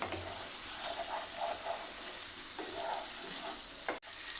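Eggs frying in a pan of masala for a butter egg curry, giving a steady soft sizzle with faint scraping stirs throughout, and a brief sharp clatter near the end.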